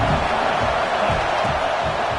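Dense stadium crowd noise at a Clemson football game, a steady roaring wash of many voices cheering, broad and continuous, with no single voice standing out.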